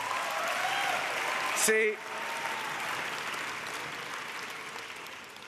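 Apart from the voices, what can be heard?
audience applause at press gallery dinner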